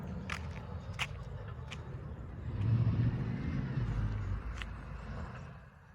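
A 2020 Chevy Blazer accelerates hard, its engine rising in a deep roar that swells mid-clip and then fades, with a few sharp clicks and brief sounds over an outdoor background.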